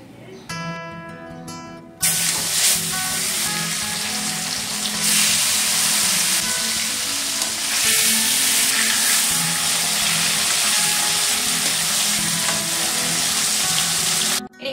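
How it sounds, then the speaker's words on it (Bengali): Pieces of a large fish frying in hot oil, a loud close crackling sizzle that starts abruptly after a brief quiet moment and continues steadily to the end. "আমি মাছটা একদম দারুণভাবে ক্লিন মানে ফ্রাই করে নিলাম"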